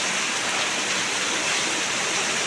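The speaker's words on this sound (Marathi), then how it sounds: "पाऊस बघा काय जोरात पाऊस पडतोय, विजा पण कडकडत आहेत" Heavy unseasonal rain pours down in a Konkan village in early April, a dense and steady close hiss that fills the whole clip with no voices.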